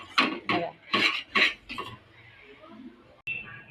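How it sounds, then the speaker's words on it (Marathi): Paneer masala stirred and sautéed in a pan, with a run of four or five sharp scraping, clattering strokes followed by quieter sizzling and a single clack near the end. "आता याला मस्त तेल सुटेपर्यंत आपल्याला परतू घ्यायचं आहे बरं का"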